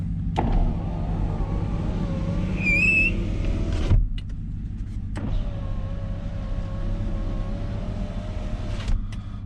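Truck power windows from a universal kit run with a whirring electric motor hum, stopping with clunks and running again, several cycles up and down close by over an idling vehicle.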